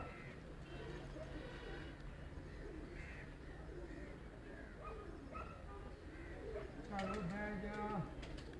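Pigeons coo and call from a rooftop loft, soft intermittent murmurs under steady background noise, with a louder burst of calls near the end; people talk nearby.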